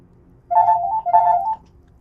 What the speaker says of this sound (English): Wait for the phone call.